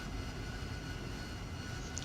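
An AV-8B Harrier jet taxis in DCS World, its engine a steady, muffled roar with a constant whine that holds at low volume throughout, with no speech.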